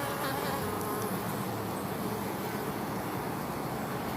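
Honeybees buzzing around a sugar syrup feeder at a beehive in Jamaica, a continuous droning hum with some individual bees passing close, heard alone without talk.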